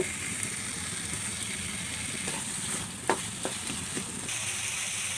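Boiled papaya mash with salt and turmeric fries in a pan as it is stirred, a steady close sizzle with a few scraping knocks of the utensil midway and no talking.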